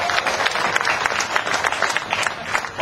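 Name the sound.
audience applause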